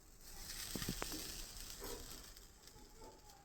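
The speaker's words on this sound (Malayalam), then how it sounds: "ഇനി കൊഞ്ച് വറുത്ത തവയിലോട്ട് തന്നെ നമുക്ക് തേങ്ങ ഇടാം." Grated coconut sizzles faintly on a tava just used for frying dried shrimp, a soft, steady hiss with a few quick scrapes and clicks near the start.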